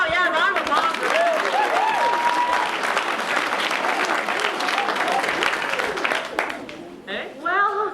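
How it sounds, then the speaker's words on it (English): A crowd gives loud, sustained applause with whistles and cheering for a contestant in a comedic dating-show game, with voices mixed in, fading briefly before a final burst. "round of applause for him"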